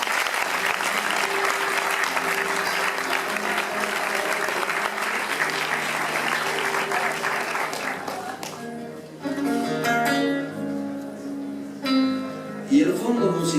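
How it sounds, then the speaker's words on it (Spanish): Audience at a concert in Cuba applauds, a steady broad clapping that fades after about eight seconds into soft music and scattered sounds. "Un fuerte aplauso."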